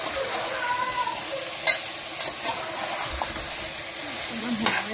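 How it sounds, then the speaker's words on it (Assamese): Ingredients for Assamese khar frying in a pan and being stirred, a steady close sizzle broken by a few sharp scrapes and knocks of the spoon. "অকণমান এইখিনি ফ্ৰাই কৰিব লাগিব দেই।"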